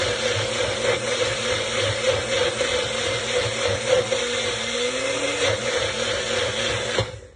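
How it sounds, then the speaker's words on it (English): A Magic Bullet blender running steadily at close range with a constant loud whirring motor drone, which cuts off abruptly at the end. "And the Magic Bullet, y'all, does pulverize it better and puree it better than a regular food processor"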